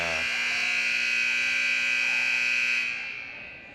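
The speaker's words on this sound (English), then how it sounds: "Just want to make sure everybody was aware of the buzzer there." A loud, sustained electronic gym buzzer at a volleyball match blares for about three seconds at an even pitch, then fades out.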